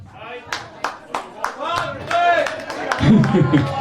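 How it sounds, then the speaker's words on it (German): Audience clapping at a live Schlager party, a burst of applause with a host talking over it, the claps growing denser and louder toward the end. "Deshalb geben wir mal Patrick riesen Applaus"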